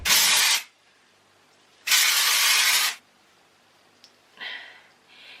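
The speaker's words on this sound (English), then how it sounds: "So I'm just gonna spray in some dry shampoo." Two long hissing bursts of aerosol spray, each about a second, followed by a brief click and a softer short spray near the end.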